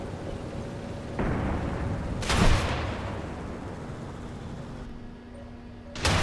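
Heavy tank cannon fire in the War Thunder tank battle game: a few loud booming blasts over a rumbling battlefield background, the strongest burst near the middle and another sharp report at the very end.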